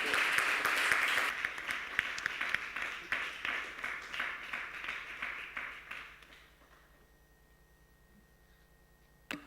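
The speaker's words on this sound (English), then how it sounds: "An applause." Audience applause at a conference presenting traditional woody-crop projects, a dense wash of many hands clapping that fades out over several seconds, leaving near silence and one last faint clap.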